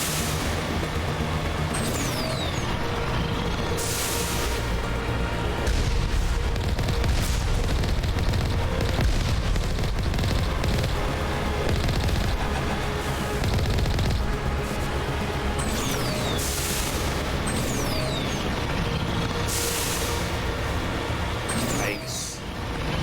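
Rocket blasts and gunfire in Mass Effect rumble through a continuous loud battle din, heavy booms and whooshing projectiles layered over a constant roar, with voices talking over it.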